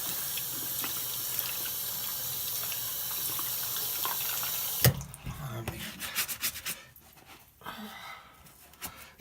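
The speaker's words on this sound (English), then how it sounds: "I'm gonna rinse this off." Tap water runs steadily onto an Adidas Tubular sneaker being rinsed, a continuous close hiss for about five seconds that stops abruptly, followed by softer splashes, drips and handling noises.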